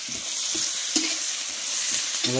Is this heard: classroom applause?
no